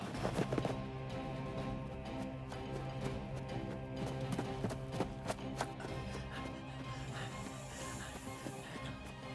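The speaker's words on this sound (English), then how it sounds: "I hear footsteps. They're gaining on us." Footsteps approach at a hurried pace, a string of sharp rhythmic taps that are clearly audible over a background music bed.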